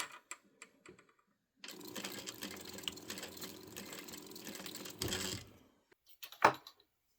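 A sewing machine back tacks a quilted bag seam in a steady mechanical run of about three and a half seconds, stopping briefly for a few soft clicks and a short sharp knock near the end.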